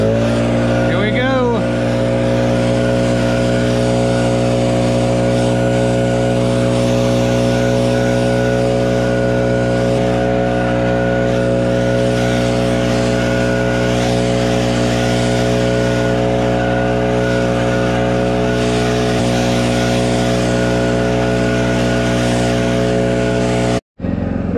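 A Stihl BR800 backpack leaf blower blasting gravel out of grass, its engine a loud, steady droning roar held at close range for over twenty seconds before cutting off abruptly, with a voice heard faintly underneath.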